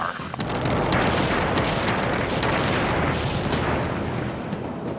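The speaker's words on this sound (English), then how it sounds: "We just had a big explosion and everything's on fire." A huge explosion at a rocket fuel factory in a small desert town in Henderson, Nevada: one sustained, loud, roaring blast rumble that fills the whole stretch with dense, crackling low-end energy and no speech.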